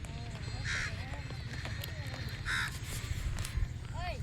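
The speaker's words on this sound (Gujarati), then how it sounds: "કાગડા" Crows caw by the seashore with several loud, harsh calls spaced a second or two apart, set against steady wind and surf noise with faint voices in the background.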